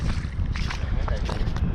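Wind gusting across an open frozen lake during an ice-fishing outing, a steady rough rumble in the lows throughout, with people talking over it.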